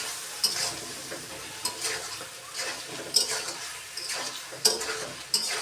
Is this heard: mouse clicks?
no